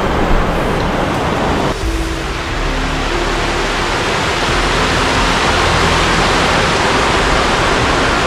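A waterfall pours into a natural river swimming pool. The loud, steady roar of falling water fills the clip from start to finish, with no voices.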